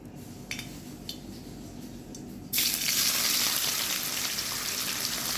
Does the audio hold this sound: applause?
no